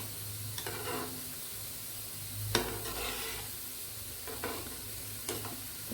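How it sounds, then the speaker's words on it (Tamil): A bitter gourd kuzhambu is stirred in a pot with a spoon, soft scraping strokes and a couple of sharp clinks over a constant gentle sizzle and bubbling, close and fairly quiet, with no voices. "லைட்டாக ஒரு கிளறிடுவோம்."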